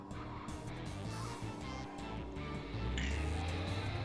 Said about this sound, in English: The engine's noises grow louder.